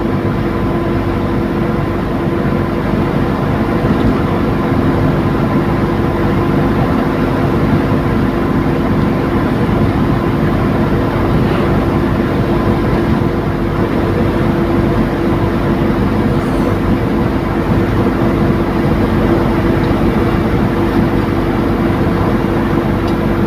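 Steady engine drone of a Mitsubishi Colt T12SS with CDI ignition during a test drive, a continuous low hum with constant loudness and little change in pitch, heard alone without talk.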